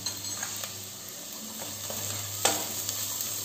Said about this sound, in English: Our onion is getting tossed well.